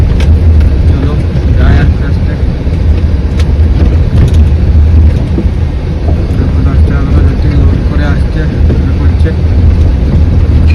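A loud, steady engine rumble of an empty truck driving slowly on a bumpy road, with continuous low drone and rattling broadband noise throughout, no pauses.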